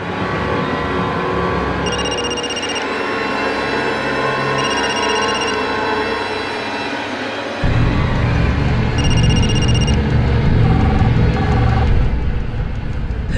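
A telephone rings in repeated electronic bursts as an unanswered call goes unpicked, heard over a constant loud rumble of a moving vehicle that grows heavier partway through.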